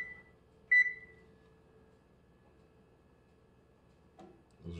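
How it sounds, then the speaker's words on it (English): Kitchen oven timer being set while baking einkorn bread gives two short electronic beeps near the start, followed by quiet room tone and faint handling noises. "Timer."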